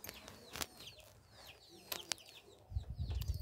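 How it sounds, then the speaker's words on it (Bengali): Baby chicks kept at home chirp in quick, high, repeated peeps, faint and scattered, over low background rustling and a soft rumble toward the end. "দেখুন খুবই সুন্দর ছানাগুলো"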